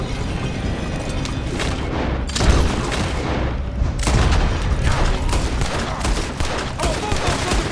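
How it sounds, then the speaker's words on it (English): Gunfire crackles through a Red Dead Redemption 2 shootout, dense overlapping shots and booming blasts filling the whole stretch loudly, with voices barely surfacing underneath. "One's shooting at us."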